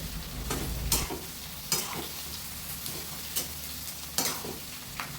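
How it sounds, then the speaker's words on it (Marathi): Continuous sizzling of onion frying in oil in a wok, broken by repeated scraping strokes of a spatula every second or so. "इकडे कढईमध्ये कांदा भाजायला घातला आणि नंतर खोबरं पण भाजायला घेतलं"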